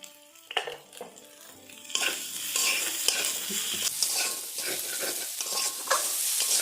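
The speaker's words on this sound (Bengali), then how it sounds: "মশলাগুলো সুন্দর করে আমি ভেজে নিয়েছি" Spices with ginger, salt and turmeric fry in a pan for a raw mango fish curry, a spatula scraping and clattering at first, then a loud steady sizzle with intermittent stirring knocks.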